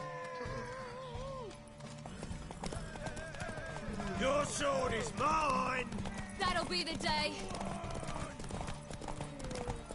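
Horse hooves clip-clopping at a gallop in the video game Witcher 3, a steady rapid beat under game music, with a brief whinny and a clashing crash as voices talk over it.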